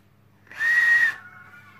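A Digiflavor Themis RTA vape atomizer gives a thin, steady high whistle that rises for about half a second and then fades into a fainter hiss, alone in a quiet room.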